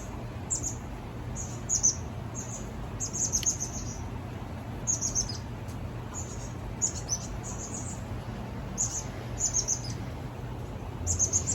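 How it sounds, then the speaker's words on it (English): Birds chirp in short repeated bursts of bright high tweets over a steady low background rumble outdoors, with no one talking. "I feel like I'm learning secrets from these birds."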